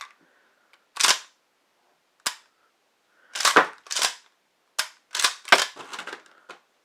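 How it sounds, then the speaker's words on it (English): Pump action cycled on a Winchester SXP Defender 12 gauge shotgun: a handful of sharp, close mechanical clacks and slides in quick pairs, separated by silence. "and then you can cycle the pump"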